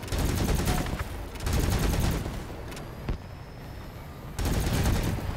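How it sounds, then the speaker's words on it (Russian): Rapid automatic gunfire from vehicle-mounted weapons in the Crossout combat game, loud sustained bursts separated by short pauses with a single sharp shot in between, and no talk. "давай сюда постреляем"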